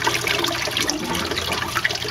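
Water drains through a siphon in a garden display at Olomana Gardens, a continuous gurgling trickle with small splashes, moderately close and steady.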